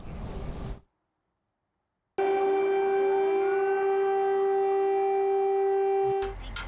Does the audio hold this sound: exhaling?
no